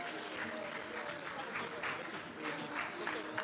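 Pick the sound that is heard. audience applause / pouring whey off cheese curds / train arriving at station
audience applause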